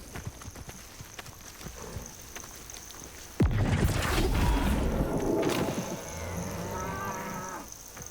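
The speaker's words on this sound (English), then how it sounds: "Are you cows? Because if you're cows, I need to flipendo you." Cattle moo in the Hogwarts Legacy game world: a loud, close, drawn-out moo starts suddenly and then fades into a second, softer lowing call, with faint hoof clip-clops and ambient game sound beneath.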